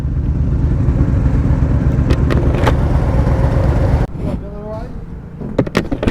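A motorcycle ride with a steady, loud engine drone and wind rumble that cuts off abruptly, followed by quieter idling, clicks and clatter as the bike stops.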